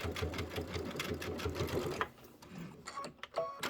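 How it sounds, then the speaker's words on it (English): A sewing machine fitted with a quarter-inch foot stitches down fabric in a rapid, close mechanical rattle for about two seconds, then stops, leaving a few faint clicks and handling sounds. "I'm going to go ahead and sew this down. I still have my 1/4 inch foot on"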